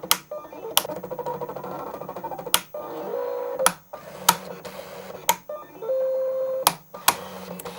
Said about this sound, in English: The clicking sound you can hear when it's cutting is perfectly normal,